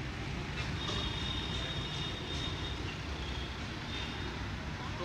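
A Jawa 42 Bobber motorcycle engine runs at a steady idle, with a constant low rumble that holds without change throughout.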